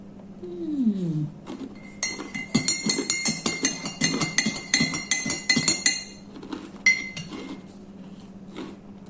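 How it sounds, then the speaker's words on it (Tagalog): A metal spoon stirs hot coffee in a cup, giving a quick run of bright rhythmic clinks against the sides for a few seconds, then a couple of isolated taps in a quiet morning kitchen. "Masyado pang mainit ang kape, kaya kinukutsara ko na lang."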